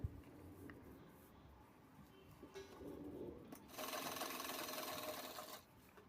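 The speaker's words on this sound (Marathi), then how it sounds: "आता परत एकदा मी साईडनं शिलाई घेते आहे" Sewing machine stitching folded fabric along a side seam with a zip, a soft steady whir that rises into a faster, louder run of stitching in the middle before slowing and stopping.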